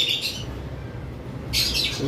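Lovebirds and conure chicks in a bird shop give loud, shrill squawking calls in two bursts, near and dominant over a low background rumble.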